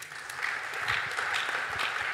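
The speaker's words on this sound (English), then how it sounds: "A round of applause for all of the comments" Brief applause from a panel audience at a Bitcoin payments discussion, a short steady patter of clapping at moderate volume.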